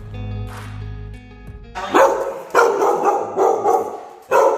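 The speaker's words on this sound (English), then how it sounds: "What's Cooper barking at? What are you barking at?" A dog barks repeatedly nearby in loud bursts after a steady low hum.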